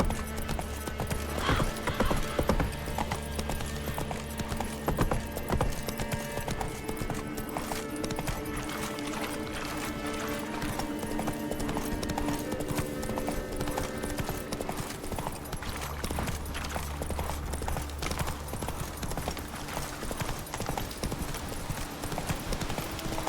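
Roach, Geralt's horse in The Witcher 3, runs in a steady, rapid clip-clop of hooves against a busy game soundtrack, with a brief whinny near the start and the hoofbeats continuing loudly throughout.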